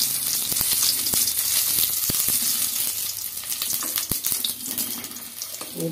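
Whole tomatoes sautéing in a pan for murungaikeerai (drumstick leaf) chutney give a steady, close sizzle with scattered sharp pops and crackles throughout, no voices.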